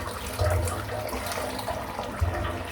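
Water runs steadily from a tap as a razor is rinsed beneath it during a face shave, a continuous close hiss and splash with a couple of brief louder gushes.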